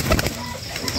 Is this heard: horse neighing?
no